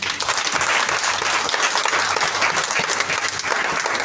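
Dense, sustained applause from a large seminar audience, loud and steady throughout with no pauses.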